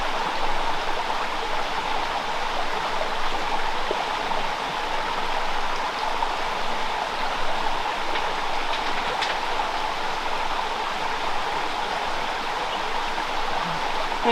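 A mountain stream in the Great Smoky Mountains rushes steadily and close by, a continuous broadband water roar with no talk, while a Grail water bottle is filled.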